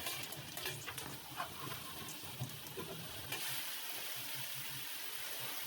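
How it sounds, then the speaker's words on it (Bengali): Cumin seeds frying with browned onion in oil for fish-head dal, a soft, steady crackling sizzle at low level with a few faint stirring scrapes, no voices. "এবার জিরা দিয়ে একটু ভেজে তারপরে ডালগুলো দিয়ে দেব"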